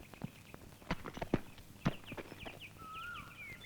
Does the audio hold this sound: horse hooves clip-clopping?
yes